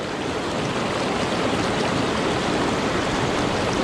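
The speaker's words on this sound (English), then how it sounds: "Beautiful brook." A small mountain brook in the Beartooth Mountains of Wyoming rushes steadily over rocks in autumn, a constant close wash of water with no voices.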